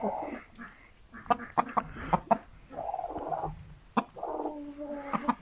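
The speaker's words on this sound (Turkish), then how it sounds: "Horozumuz bu." A rooster and other chickens call near a village coop in winter, a mix of clucks, short sharp calls and drawn-out crowing phrases, fairly close.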